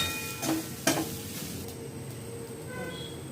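Spices being stirred into fried idli in a pan: turmeric, chilli powder, sambar masala and cumin powder. A quiet sizzle runs throughout, with two brief scraping strokes early on.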